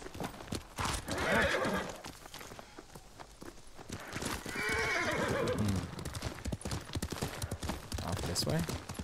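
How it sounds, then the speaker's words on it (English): Horse hooves clatter steadily at a gallop in the video game Ghost of Tsushima while a horse whinnies loudly, with muffled voices and rumbling background underneath. "No, get on the horse."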